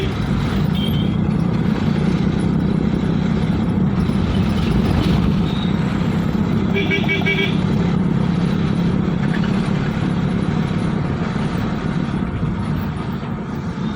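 A long traffic jam of idling heavy vehicles near Wyra bridge gives off a steady, dense engine rumble, with a faint horn toot partway through and no clear talking.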